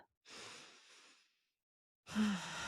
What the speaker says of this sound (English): Man, that just feels good, taking a deep breath.